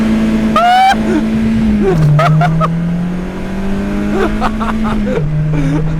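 A boosted BMW E36 accelerates hard with a loud, close engine drone that climbs through gears, its pitch rising and then dropping at each shift. Excited voices shout over the engine.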